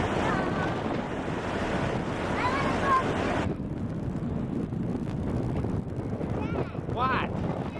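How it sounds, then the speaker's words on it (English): Strong wind buffets outdoors by the sea on the Florida coast, a constant roaring rush with crashing surf beneath, loud and steady throughout, with a few faint voices and higher bird-like or squeaky sounds near the end. "Is it too windy out here for you?"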